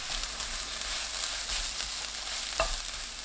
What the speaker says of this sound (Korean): 가지 넣고 2분 30초 볶아주세요